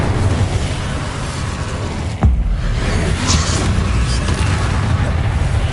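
Confringo blasting spell in Hogwarts Legacy: a sudden sharp burst cracks out of a dense, roaring wash of game noise, followed by a rumbling explosive tail, loud and close.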